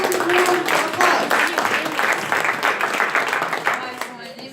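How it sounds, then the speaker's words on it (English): An audience at a startup weekend opening ceremony in Geneva claps for the next speaker, with dense steady applause that thins and fades toward the end. "Let's give her a round of applause."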